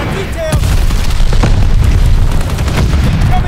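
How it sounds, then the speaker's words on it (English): Glide bomb blast in Call of Duty: Vanguard multiplayer, a loud booming explosion with rumbling aftermath and scattered gunfire, sustained and close throughout. "Enemy glide bomb incoming!"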